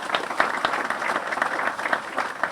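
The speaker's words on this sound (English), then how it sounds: "a big round of applause to all our donors" Steady audience applause fills the whole stretch, many hands clapping at an evening civic ceremony for a new all-inclusive park in Mission, dense and continuous with sharper individual claps popping out.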